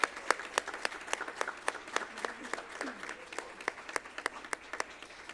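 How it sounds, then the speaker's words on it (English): A small group at a college board of regents meeting claps for students. The individual claps are sparse and distinct, coming in a loose steady rhythm for about five seconds at a fairly soft level. "So would you please give a huge round of applause to these individuals."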